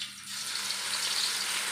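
Yam pieces fry in hot oil for a crisp finish, a dense, even sizzle that swells in after a quieter first moment and holds steady up close, with no voices.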